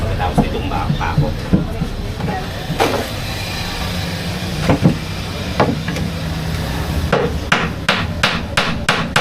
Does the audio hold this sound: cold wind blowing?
no